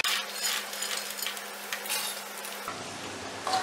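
Fox nuts (makhana) fry in ghee over a medium flame, a dense continuous sizzle with light stirring scrapes and clinks of a ladle against the pan, loud and close with no voices.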